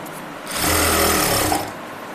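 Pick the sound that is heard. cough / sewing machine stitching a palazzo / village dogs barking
sewing machine stitching a palazzo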